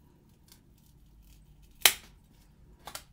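Scissors trim a photograph, making one crisp, close snip followed a moment later by a second, softer cut over quiet background.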